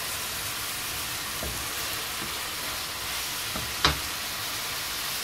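Food sizzling steadily in a pan while a spoon stirs it, with a few soft scraping knocks and one sharper clink over the constant frying hiss.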